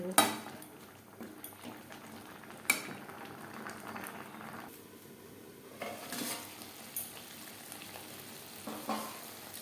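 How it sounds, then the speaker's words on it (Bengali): Mutton being sautéed in a pan over a medium-high flame for an aloo mutton curry: soft steady sizzling with intermittent stirring scrapes and clinks of a spoon against the pan. "হাই টু মিডিয়াম ফ্লেমে পাঁচ ছয় মিনিট মাংস বেশ ভালো করে কষিয়ে"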